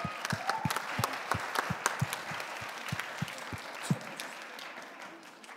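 Audience applause at a church camp drama performance, a dense, fairly quiet patter of many hands clapping continuously, with individual sharper claps popping out over the crowd.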